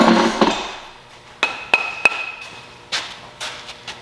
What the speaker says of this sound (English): I think this is what this hammer is intended for.